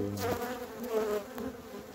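Honeybees buzz at the entrance of a hive as foragers bring in pollen and nectar, a close, steady droning hum with overlapping wingbeats that rise and fall slightly throughout.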